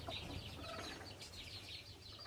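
Hens clucking in a basket, soft irregular clucks and murmurs carrying through steady low farmyard background noise, fairly close but quiet throughout.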